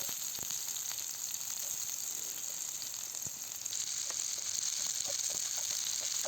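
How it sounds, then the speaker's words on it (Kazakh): Chopped onions fry in hot oil in a pan, a steady bright crackling sizzle with scattered small pops, close and continuous throughout, with no talking. "қызып тұрған майдың үстінен пиязымызды саламыз."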